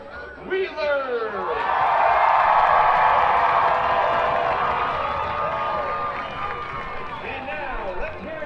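A stadium crowd at a Lubbock Matadors versus Austin United match cheers and whoops for a dog contestant in a bark-off runoff, the roar building after a brief announcer's voice, peaking loud midway, then fading.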